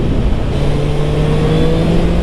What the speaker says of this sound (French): Quand même déjà un beau petit son, hein, ce pot d'origine.